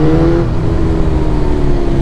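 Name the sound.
budget motorbike accelerating hard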